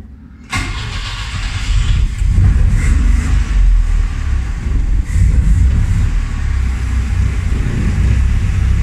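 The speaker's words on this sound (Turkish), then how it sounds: "Güzel, çalışıyor arabamız." An old car, bought for 1000 lira, cranks and catches with a sudden loud start, then settles into a rough, loud idle with uneven low rumbling pulses close by, no talk over it.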